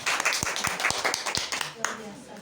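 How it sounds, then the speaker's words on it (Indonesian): Short burst of classroom clapping for a student named Hadi, a few separate sharp claps standing out over room murmur, fading after about two seconds. "Tepuk tangan untuk Mas Hadi."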